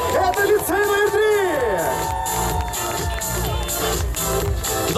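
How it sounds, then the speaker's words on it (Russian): A crowd at an outdoor school graduation procession in Sarov cheers and claps for the graduates, loud and lively, with shouting voices and tonal whoops rising above the general noise. "Ваши аплодисменты!"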